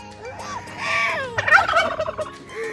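Turkey gobbling on a farm where ducks, cows and young birds are also kept: a close, rapid burst of bubbling gobbles mid-clip, followed by a second louder, more excited gobbling run, with no talk.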